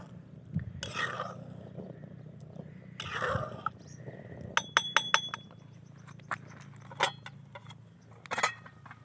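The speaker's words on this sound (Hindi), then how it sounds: "अब हम इस पर दोबारा ढक्कन रखेंगे और इसको पकाएंगे।" A lid set back onto a cooking pot of rice gives a short cluster of bright metallic clinks and rattles, then a couple of lighter knocks, over a steady low kitchen hum with no speech.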